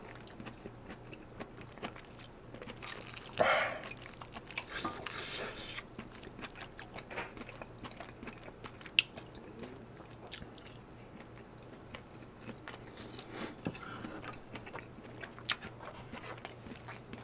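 Napa cabbage dipped in chogochujang is chewed close to the mic during a Korean beef shabu-shabu mukbang. Soft, wet crunching bites come in quiet bursts, with one sharper bite early on, and low breathy murmurs sit underneath.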